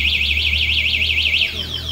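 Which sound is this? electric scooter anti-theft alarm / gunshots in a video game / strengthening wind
electric scooter anti-theft alarm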